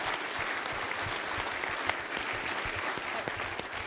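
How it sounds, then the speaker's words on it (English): Audience at a global sustainability milestone meeting applauding a team, continuous full clapping with crisp individual claps audible throughout, sustained and fairly loud. "I want to bask in those 10 seconds of applause"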